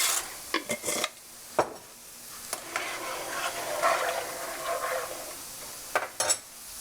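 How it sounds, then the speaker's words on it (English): Dry rotini pasta, about half a pound, clatters into a pot in a home kitchen. A few short, faint rattling bursts are followed by softer rustling and a final quick rattle. "1/2 pound of pasta that I'm gonna put in"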